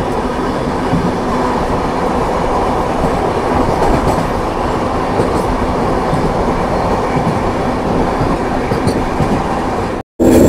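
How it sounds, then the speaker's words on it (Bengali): Two Indian passenger trains cross at speed, the Jalpaiguri Road–Sealdah Humsafar Express passing the Haldibari Intercity Express in a loud, unbroken roar of rumbling wheels and clattering coaches heard from close by. "Haldibari intercity express, Jalpaiguri road Sealdah Humsafar express crossing."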